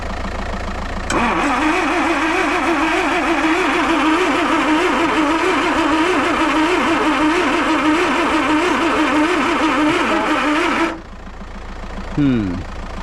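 A Land Rover 2.25 petrol engine cranks steadily on the starter for about ten seconds without catching, a loud rhythmic churning that then cuts out, followed by a brief faint click or whine.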